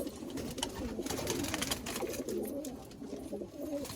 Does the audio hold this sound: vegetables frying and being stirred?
no